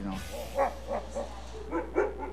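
A wolf-dog hybrid gives a series of soft, close barks and yips, about five in quick uneven succession, over a low steady hum.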